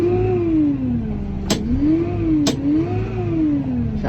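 A $190,000 tractor's engine runs at a steady idle, a low droning hum that wavers slightly in pitch, with two sharp clicks heard alone and close.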